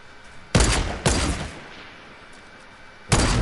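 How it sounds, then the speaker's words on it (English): Rocket launcher fire in a video game: three loud, close blasts, each a broad burst of noise with a short decaying tail, spaced unevenly with a lull before the last. "And we got rockets, rocket launcher."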